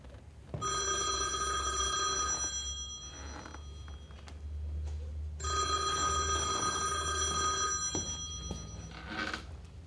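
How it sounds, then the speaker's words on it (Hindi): An old-style telephone bell rings in two long, loud bursts separated by a pause, close and clear over a low background hum, with no talking. "शर्मा अंकल, आपका फ़ोन है।"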